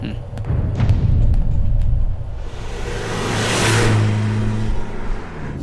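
A car in a police film scene rumbles along with a low, steady engine drone, then eases off and settles as it slows to a stop, with some thumps and background sound.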